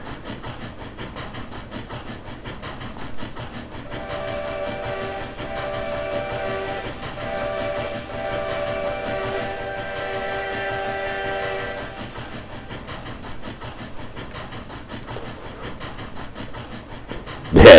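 A CP 2-10-4 Selkirk steam locomotive runs in the Trainz 2019 simulator. Its steady rumble goes on throughout, and a sustained steam whistle sounds for several seconds in the middle.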